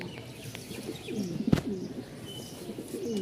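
Pigeons coo softly and repeatedly nearby, low rolling calls over faint background noise, with one sharp knock midway.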